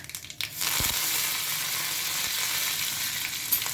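Black mustard seeds and finely chopped curry leaves hit hot oil for a breakfast dish, setting off a sudden loud, dense crackling sizzle that holds steady with no talk.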